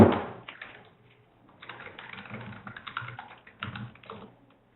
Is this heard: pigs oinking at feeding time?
no